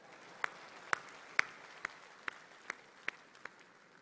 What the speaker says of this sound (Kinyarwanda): mwiha amashyi muri beza we